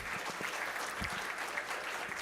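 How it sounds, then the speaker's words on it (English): Conference audience applauds a presenter named Alex, steady continuous clapping from a seated crowd at a tech event, somewhat distant and even throughout. "So, big round of applause for Alex"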